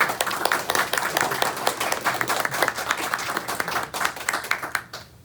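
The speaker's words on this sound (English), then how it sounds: "So let's give a huge round of applause for them." An audience at an open source and AI panel event applauds its hosts, with many hands clapping briskly and steadily before the sound fades out at the end.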